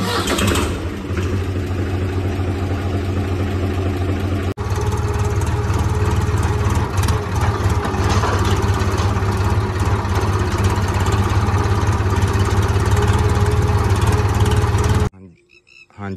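A farm tractor fitted with a disc harrow and plough starts up and settles into a loud, steady diesel idle. The engine chugs close by with an even throb for a long stretch before cutting off abruptly.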